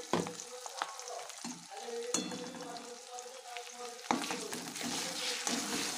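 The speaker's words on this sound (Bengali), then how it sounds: "মশলাটা ভালো মতন কষাচ্ছি" Onion, ginger-garlic paste, bay leaf and spices fry in mustard oil, crackling and sizzling up close while a utensil stirs and scrapes them in bursts. No one speaks.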